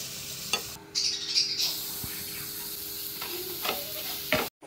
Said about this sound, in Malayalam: ആദ്യം നമുക്കൊന്ന് അണ്ടിപ്പരിപ്പുള്ള നെയ്യിൽ വറുത്തിട്ട് കറി ഒന്ന് ചൂടാക്കിയെടുക്കാം.